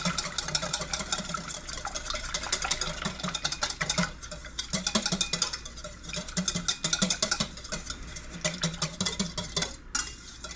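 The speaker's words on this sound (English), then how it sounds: "I'm going to grab a whisk and whisk it in together like this" A whisk stirs melted tallow balm ingredients in a pot, giving a close, continuous rhythmic scraping and tapping against the sides with soft liquid swishing, unbroken by speech.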